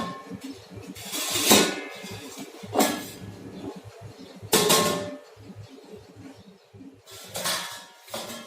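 A metal pot lid on a pan of steaming potato chips clanks and scrapes in several separate bursts, with quieter handling sounds between them, close by and without talk.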